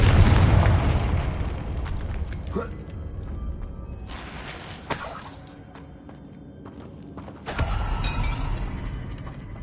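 Confringo spells in Hogwarts Legacy, cast as fiery explosions: three or four sharp bursts with rumbling, crackling tails, mixed with mechanical creaks and battle noise. A voice calls out between the blasts.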